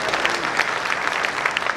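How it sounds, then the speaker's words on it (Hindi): Sustained applause from the audience at a kavi sammelan poetry recital, dense steady clapping from a sizeable crowd throughout. "तालियों की मोहर लगाइए, समर्थन करें इस बात का।"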